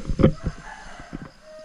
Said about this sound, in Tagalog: Ay, manok ay. Kalabas yung manok oh.